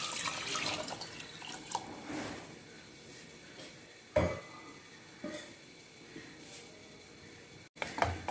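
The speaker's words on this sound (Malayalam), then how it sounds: "ഇനി വെള്ളം ചേർത്ത് കൊടുക്കുക." Water is poured over crushed pepper, garlic and ginger in a cooking pot, a soft splashing pour at the start followed by quieter trickles and a few sharp knocks of the vessel.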